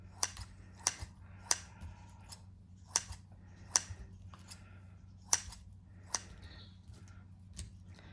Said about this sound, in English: So cut it all up.